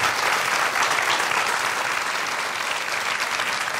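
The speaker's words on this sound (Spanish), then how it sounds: "Un fuerte aplauso para él." Loud, sustained applause from a studio audience at a Canarian parranda folk music show, dense steady clapping that fills the whole stretch without any voices over it.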